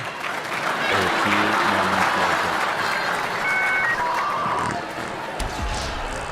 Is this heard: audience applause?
yes